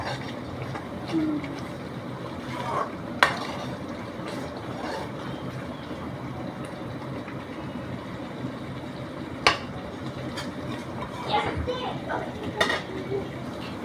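Katla fish kalia being stirred in a pan with a spoon, scraping along the sides: soft continuous simmering with occasional sharp metal clinks and scrapes, while someone talks over it.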